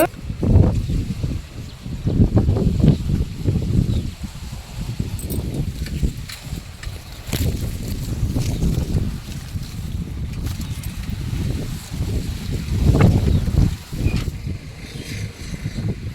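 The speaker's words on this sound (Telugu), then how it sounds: "గాలి అయితే మామూలు కొడతలేదు ఎండ అత్తానే ఉంది గాలి అత్తానే ఉంది బయట" Strong wind gusting outdoors in a sunny village, a broad rushing roar that swells and fades in waves throughout, with no speech.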